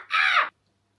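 A person imitates a crow's caw with a single harsh, nasal call lasting about half a second, close and clear, then silence.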